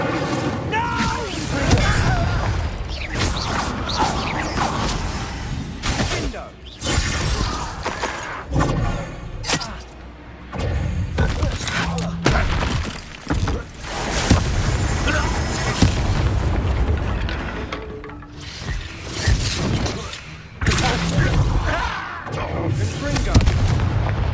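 A fire spell bursts in Hogwarts Legacy amid a busy combat scene: loud booming blasts, crackling impacts and heavy thuds pile up almost without pause, with voices shouting over the din.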